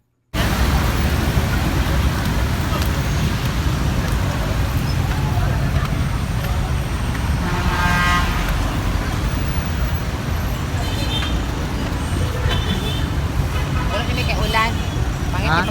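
Steady roar of traffic on a big highway, with cars and buses passing continuously at close range under a background of crowd babble, loud and unbroken throughout.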